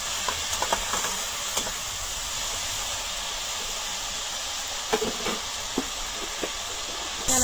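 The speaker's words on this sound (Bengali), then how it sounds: "একটু লবণ দিলাম, তাড়াতাড়ি এই টমেটোটা গলে দিই, লবণ দিয়ে লাড়াচাড়া করে।" Tomato with salt sizzles in a hot pan, a steady bright hiss broken by occasional clicks and scrapes of stirring, close and continuous with no talking.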